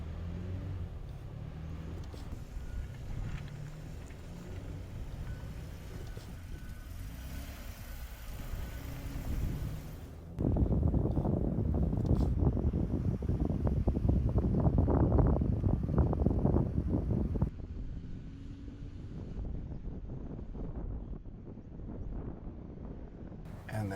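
A truck climbing an easy off-road hill, its engine noise and wind rumble rising sharply into a loud, sustained roar for several seconds, then settling back to a steadier drone.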